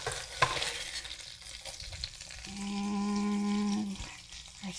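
French toast sizzles and fries in a hot pan, a steady close crackle that swells briefly as more bread goes in, with a sustained low hum over the second half.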